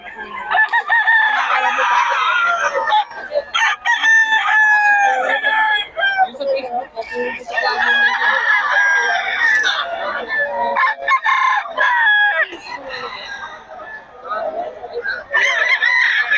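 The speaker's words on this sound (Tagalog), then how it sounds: "3-5-3-5 daw yung mga manok ni Boss Renzo, mga idol" Several gamefowl roosters crow repeatedly and loudly at a gamefowl sale in Bocaue, overlapping one another with clucks in between, while voices of sellers carry through the busy scene.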